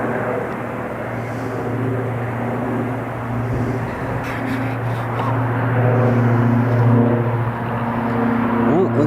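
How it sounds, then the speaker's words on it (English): A Diamond light aircraft goes around and climbs slowly at an airport, its engine a steady, continuous drone at moderate distance throughout. "There's a diamond just going around again. So it's climbing very slowly."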